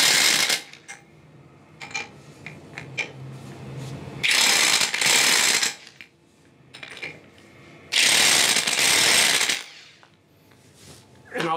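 Ratchet wrench turning a socket until it is snug, heard as bursts of rapid clicking ratchet noise that alternate with quieter handling sounds, close and fairly loud, with no talk.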